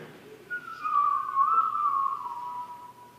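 A single clear whistled note held and gently wavering, sliding slightly downward over a few seconds in a quiet room.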